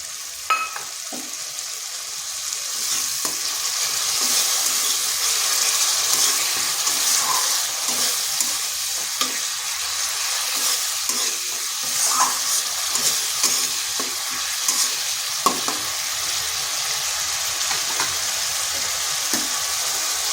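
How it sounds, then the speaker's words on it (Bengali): Spices with grated tomato sizzle and fry in a pan for a long, steady stretch, with a continuous bright hiss broken by occasional scraping stirs of a spoon. "এটাকে বেশ একটু সময় ধরে কষতে হবে।"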